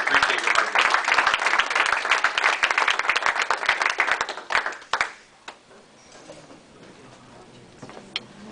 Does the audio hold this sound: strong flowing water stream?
no